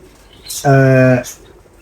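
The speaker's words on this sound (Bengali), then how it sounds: "এটা মোস্ট প্রবাবলি এটা রেসিং কবুতরের বাচ্চা" Pigeon cooing among a loft of pigeons, including a slim grey young racing pigeon and black-and-white Sirazi birds: one sustained, tonal coo about half a second long, close and clear, framed by brief hissy bursts.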